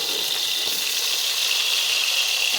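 Tomato sizzling with onions in a pan while cooking crab kuzhambu, a steady close hiss of frying that continues without a break and has no talk over it.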